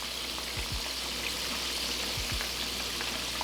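Crappie fillets coated in mustard fry in a pan, giving a continuous loud, close hiss of sizzling oil with faint crackles and no voices.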